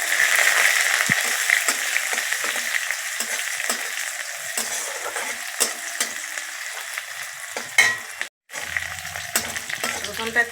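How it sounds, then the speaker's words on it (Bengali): Crushed garlic frying in hot mustard oil with dried red chillies and kalonji, a steady loud sizzle with light stirring scrapes, briefly cut off near the end before resuming. "থেতো করা রসুন"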